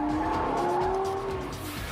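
A Lexus LFA, a carbon-fibre sports car with a six-speed manual transmission, accelerates hard: a loud, steady high-revving engine note swells and climbs in pitch for about two seconds.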